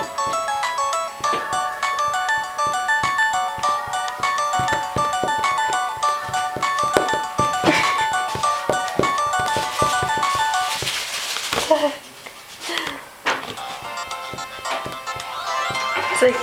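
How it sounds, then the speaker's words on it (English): A phone ringtone plays a bright, repeating electronic melody for several seconds, loud and alone, with a brief dip before the tune resumes. "It's a phone."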